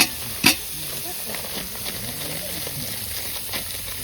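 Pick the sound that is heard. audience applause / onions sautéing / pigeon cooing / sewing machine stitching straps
onions sautéing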